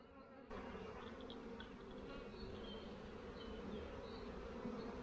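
Honeybees in an opened hive hum steadily during a spring inspection: a faint, continuous, close drone that holds throughout with no voices over it.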